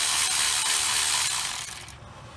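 A ratchet backs out 15 mm bolts on a power steering pump bracket of a 2007 Chevy 2500 HD gas truck, a close continuous rapid clicking of the pawl that ends in a few separate ticks, no talking.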